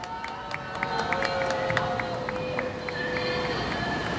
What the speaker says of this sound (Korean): 여러분 큰 박수 부탁드리도록 하겠습니다